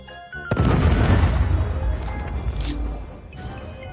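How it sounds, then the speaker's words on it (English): A predator missile strikes in a Call of Duty multiplayer match, setting off a loud, close boom whose crashing, crackling debris slowly fades out. "Be advised, hostile predator missile inbound"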